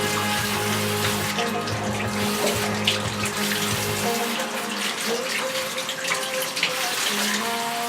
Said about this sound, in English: I really like this shower hose because of how gentle it is.